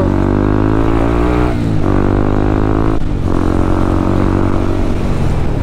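A Honda CB150X motorcycle accelerating hard to overtake on a highway, engine loud and close, revs climbing, dropping briefly at two gear shifts, then rising again.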